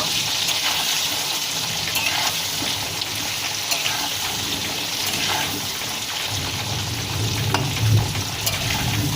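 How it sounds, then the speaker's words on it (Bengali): Chicken pieces dusted with turmeric powder fry in hot oil, giving a steady close sizzle and crackle with occasional stirring and light spatter throughout. "এবার ভেজে নেব ভালো করে লাল লাল করে ভেজে নেব"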